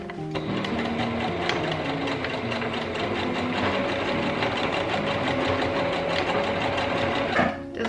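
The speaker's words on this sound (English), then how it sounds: "then we just sew these two together" A sewing machine runs steadily and loudly, stitching two pieces of fabric together in one continuous close-up whir with a brief slowdown near the end.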